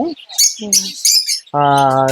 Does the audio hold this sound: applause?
no